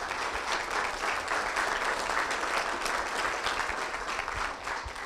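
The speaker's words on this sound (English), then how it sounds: "a round of applause for everyone." Applause from a chamber of commerce candidates forum audience in Oregon: a full, continuous wash of many hands clapping, loud and sustained throughout without any speech.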